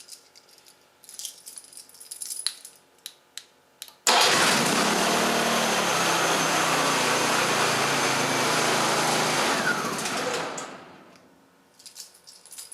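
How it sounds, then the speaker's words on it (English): Hyundai HY2000SEi or HY3000SEi inverter generator engine running loud and steady, then shut down with its red stop button so the drone fades away, preceded by light clicks and handling noises. "press and hold this red stop button until the engine stops."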